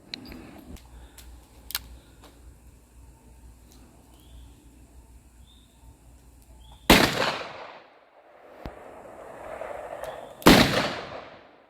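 Magnum revolver fired outdoors at a range, two loud sharp reports several seconds apart with echoing tails, over faint background clicks and handling noise.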